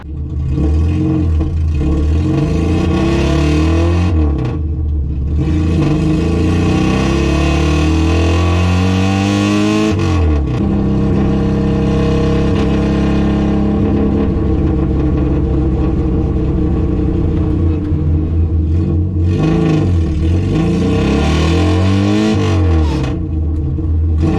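A classic Saab Sonett's engine runs steadily and loudly throughout, revving up and easing off in several swells as it drives and shifts gears, with a few misses.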